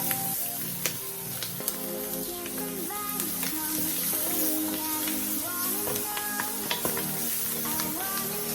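Roux for chicken and sausage gumbo stirred and sizzling steadily in a pot, a continuous crackling fry with scraping spoon strokes and small clinks throughout, close and unbroken.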